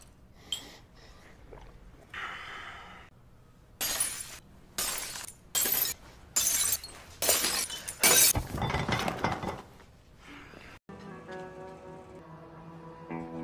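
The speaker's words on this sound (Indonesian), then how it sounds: "si ular menghantam kepalanya menggunakan botol minuman" A drink bottle smashed over a man's head in a film scene, a series of loud sharp glass-shattering crashes in quick succession, followed by quieter clinks and breathing.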